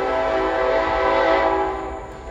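A train rolls past close by, its horn and rumbling cars sounding loud and steady before easing off slightly at the end.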